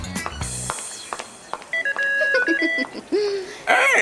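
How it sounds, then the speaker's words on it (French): A cartoon alarm built into a powder compact bleeps in quick electronic tones, a bright chirping melody that starts and stops in short bursts, loud and close amid other effects. "On a intégré une alarme à nos poudriers, en fait."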